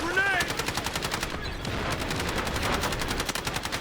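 Rapid automatic gunfire in the video game Delta Force, a fast continuous stream of sharp rattling shots that barely pauses, loud and close, with brief gaps between bursts.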